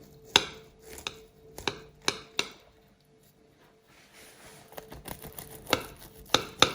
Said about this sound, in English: Just going to cut some slices off.